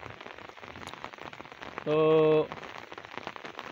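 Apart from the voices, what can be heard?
heavy monsoon rain falling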